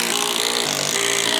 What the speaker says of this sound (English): let's screw them into these 2 boards to connect them